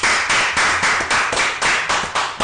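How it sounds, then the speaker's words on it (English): A podcast audience claps in rhythmic bursts, about nine even pulses of bright, dense hand claps over a couple of seconds, close and clear with no talking. "Let's give them a round of applause."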